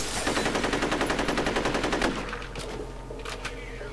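Rapid automatic gunfire in the shooter game F.E.A.R., a steady rattling burst for about two seconds, then scattered bullet impacts and smaller cracks as the firing stops.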